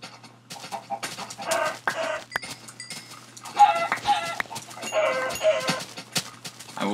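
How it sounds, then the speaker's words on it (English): Chickens clucking in the block-built game Minecraft, a cluster of several birds giving repeated short clucks and squawks in an uneven rhythm, fairly close and loud, with no talk over them. "And more chickens."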